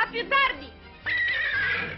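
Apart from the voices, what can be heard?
horse neighing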